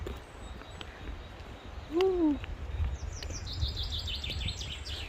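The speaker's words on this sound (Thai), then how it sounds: "เสียงนกร้องค่ะทุกคน" Birds call on a hillside amid a quiet outdoor hum, with one clear chirp in the middle and a rapid series of high twittering notes toward the end, fairly faint and distant.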